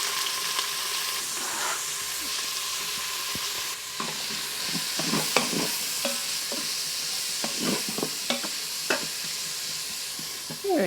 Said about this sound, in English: Getting the onions and celery in now.